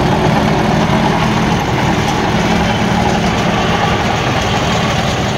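A small 195cc engine idling with a steady, close, loud low rumble that holds fairly even throughout.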